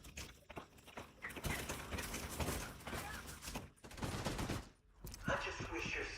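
Light machine gun fire in The Division 2 crackles in dense bursts amid game effects, moderately loud and broken by short pauses, with voices talking in the mix.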